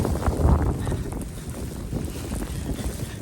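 Strong wind during a snowstorm in Toronto buffets and roars across the microphone in low, uneven gusts, with no voices.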